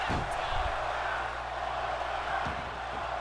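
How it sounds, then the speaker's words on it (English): Crowd noise from a wrestling video game, a steady roar of spectators with a faint rhythmic chant, heard continuously under light commentary. "And now the crowd chanting one more time."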